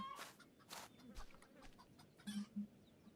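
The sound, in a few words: chicken clucking in the video game Farmer's Life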